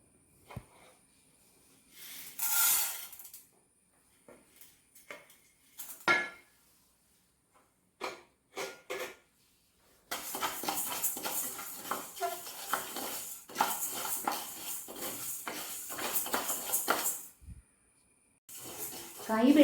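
Toor dal and urad dal roasting dry in a pan with a spoon stirring and scraping, heard as sparse clinks and scrapes early on, then a long, steady stretch of close rattling and scraping that stops briefly near the end.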